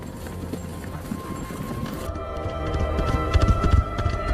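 A horse gallops out of a forest in a film scene, with rhythmic hoofbeats over a dense, rumbling soundtrack that swells louder midway.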